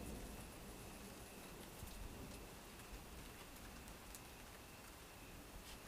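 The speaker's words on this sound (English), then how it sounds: "It's amazing they'll pick up the rain." Rain falls during a lightning storm, making a steady, even hiss of drops with no breaks, moderately distant and uniform throughout.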